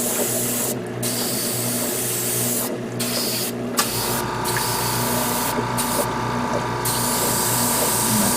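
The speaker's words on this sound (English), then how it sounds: "But I'm going to spray some yellow." Bursts of hissing spray paint come in short pulses from an airbrush onto a Gundam model kit over a steady mechanical hum, and an air compressor's drone starts partway through.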